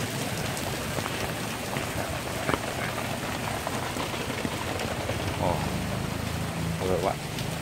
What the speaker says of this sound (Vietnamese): Mưa lớn quá cả nhà ơi.